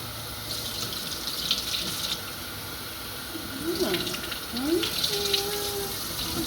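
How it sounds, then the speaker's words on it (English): Water runs steadily from a tap during rinsing, a soft, continuous splashing hiss that swells slightly as the flow shifts, with a few faint squeaks and clinks over it. "And let's rinse."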